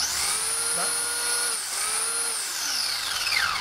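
Electric motor of an RC car driven by a HobbyKing X-Car 45A ESC, spinning in reverse: a steady, high, continuous whine whose pitch sweeps up and down a few times across the stretch.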